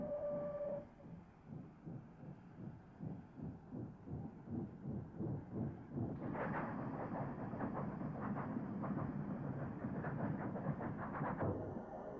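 A former LNWR steam locomotive runs on rails, a rhythmic chuffing and clanking pulse that gives way to a denser, brighter rolling clatter, moderately near and somewhat muffled.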